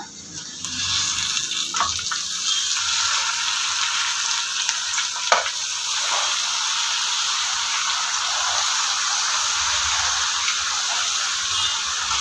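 Kashi soppu greens frying in oil with garlic and chillies, a steady close sizzle with soft stirring scrapes throughout and a few small clinks of the spoon against the pan.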